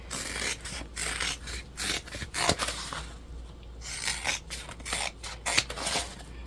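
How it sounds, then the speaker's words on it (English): Scissors trimming the seam allowance of waterproof canvas, a close series of rasping, scraping snips in quick irregular bursts. "I'm going to actually trim down a little bit more of this seam allowance here."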